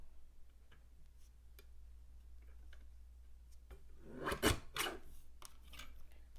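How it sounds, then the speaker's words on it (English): A mini guillotine paper trimmer slices through cardstock for cardmaking, giving one short, sharp rasping cut near the middle, with a softer second scrape just after. It sits close and alone over a quiet background hum. "So I'm going to bring in my little mini guillotine trimmer. So I'm just going to cut this on an angle."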